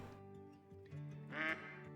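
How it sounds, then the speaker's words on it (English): A single nasal duck quack rises over steady droning game music and ambience in the hunting game Call of the Wild, brief and moderately close. "Alright, I believe we can get this duck."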